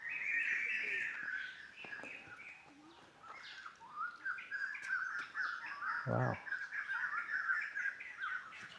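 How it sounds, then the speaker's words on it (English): Many birds chirp and call continuously in the background at Ta Som temple, Angkor, dense and layered, while a person speaks briefly over them. "Noise of birds. There are a lot of birds there."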